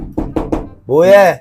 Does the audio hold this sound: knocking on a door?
yes